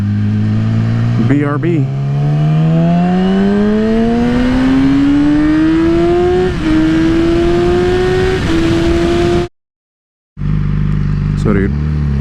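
A Yamaha R6 sport motorcycle engine revs up close and loud, its pitch climbing in stepped surges. It then shuts off into a brief silence and fires back up to a rough idle, with someone talking over it.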